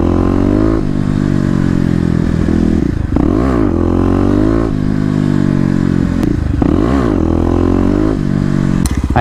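A Kawasaki KLX250 dirt bike accelerates hard with the front wheel lifting, its loud single-cylinder engine revving up through several gear changes, close and continuous, with no talk.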